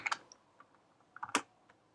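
Quick bursts of keystrokes on a computer keyboard, a short cluster of clicks, a pause with a few scattered taps, then another rapid flurry, close and clear with no talking.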